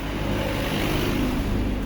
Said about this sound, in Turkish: Anneciğim dur araba geliyor